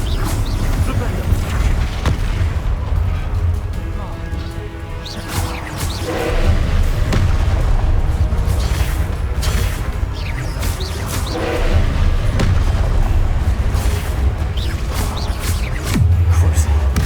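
Spell explosions in the video game Hogwarts Legacy, loud repeated booms and crashing blasts in dense succession over game music, with a voice shouting spell names.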